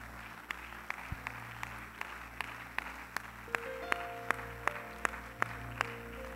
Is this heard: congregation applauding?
yes